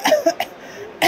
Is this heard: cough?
yes